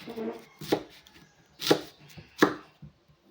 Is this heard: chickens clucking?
no